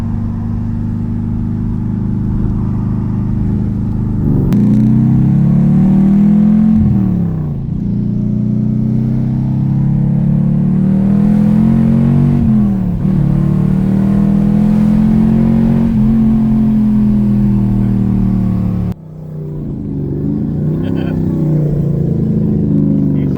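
A Ford Capri fitted with a swapped 5-litre Mercedes M113 V8 drives along, its loud, deep engine note rising and falling through several revs and gear changes, with people talking over it.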